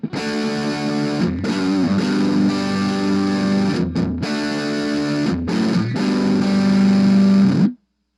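Dirty, heavily distorted electric guitar through an Orange Crush 20 amp, thick chugging chords played continuously for several seconds, loud and close, then cut off abruptly.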